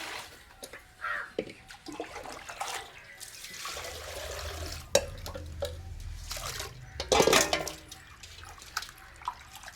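Water runs and splashes in a sink as cleaned kavalai fish are rinsed, with intermittent gushes, drips and a louder burst of pouring, fairly close and fairly quiet.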